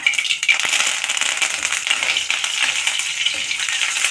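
Fenugreek seeds and curry leaves crackle in hot oil for a capsicum and okra sambar: a dense, bright, continuous sizzle heard up close with no voices.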